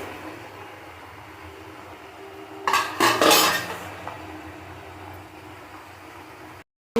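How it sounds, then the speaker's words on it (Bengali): A lid is lifted off a pot of gota seddho, a whole boiled vegetable dish, and the food is stirred once, making a short clatter and scrape of metal in the middle of an otherwise quiet kitchen. "আমি ঢাকা খুলে একবার নাড়িয়ে দেবো"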